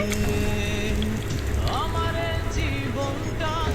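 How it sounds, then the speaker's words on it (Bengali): Pieces of lotta fish coated in biscuit crumbs frying in hot oil, giving a steady, dense sizzle and crackle that continues throughout at close range, with faint tonal sounds above it. "তেল গরম হয়ে গেছে এখন পাইপিনে দিয়ে দেব গরম তেলে দিয়ে দিচ্ছি"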